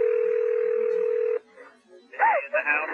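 Telephone sound effect in a Spanish true-crime audio drama, as an emergency operator calls a house: a steady, loud dial-type tone for over a second, then cut off, followed by voices talking over a phone line.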